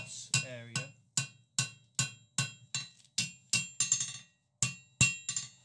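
A blacksmith works hot steel flat-bit tongs on an anvil with a lighter hammer, landing about a dozen sharp, ringing blows in a steady, evenly spaced rhythm, heard close and alone.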